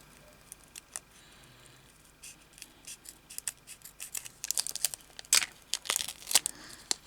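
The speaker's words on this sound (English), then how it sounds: "I'll just cut these across the top here." Scissors snip across the tops of fabric pieces, in a series of crisp, close cuts that come faster and louder toward the end, with light crinkling between them.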